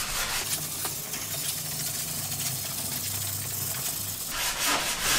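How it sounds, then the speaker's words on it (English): Hand sanding the edge of a handmade wooden door jamb with 80-grit sandpaper, a steady close scratchy rasp running continuously with a low hum beneath. "Then we just hit that edge with a bit of 80-grit sandpaper."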